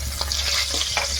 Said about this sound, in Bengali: আর পিস মাছ কড়া করে একটু ভাজছি।